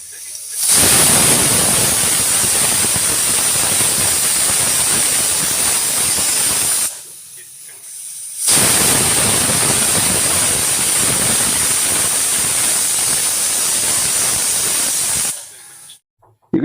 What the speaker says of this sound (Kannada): ಈಗ 2 ವಿಜಲ್ ಆಗಿದೆ.